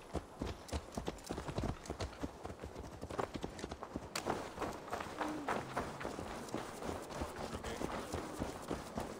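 In Assassin's Creed Valhalla, a horse's hooves beat at a steady running clip-clop across the whole span, loud and continuous, with occasional game effects behind.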